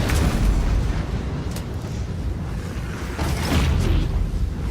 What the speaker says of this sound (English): we are going to push you even further into the explosion